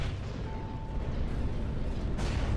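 Space battle weapon fire in a Star Wars Empire at War mod, a continuous rumble of distant blasts and booms with a faint tone hanging over it for a moment and a brighter burst near the end.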